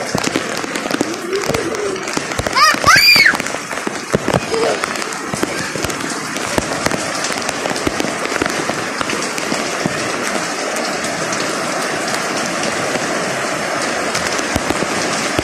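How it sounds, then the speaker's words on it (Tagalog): Heavy rain falls on potted plants and propagated cuttings, making a steady, dense patter throughout with a brief louder burst early on and some faint background noise. "Sa ulan, lakas ng ulan guys."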